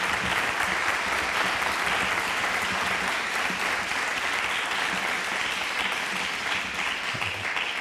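A seated audience at a closing talk for a health day in Rodez claps in steady, dense applause for several seconds, with no voices over it.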